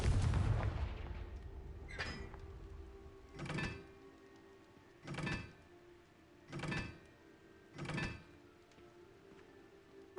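Confringo blasting spells from the video game Hogwarts Legacy go off as a loud burst followed by five muffled booms at a steady rhythm, each about one and a half seconds apart.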